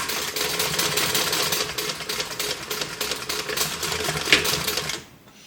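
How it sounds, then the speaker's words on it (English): A sewing machine stitches along a zipper on a bag, running in a fast, even mechanical rattle close up before stopping abruptly near the end. "I'm going to just stitch right on there"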